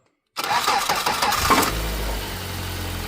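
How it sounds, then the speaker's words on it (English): A Ford Connect engine is turned over by its starter motor after a silent pause, with a rapid cranking whir that catches into a steady idle rumble, loud and close. "So now we know for sure that is the starter motor."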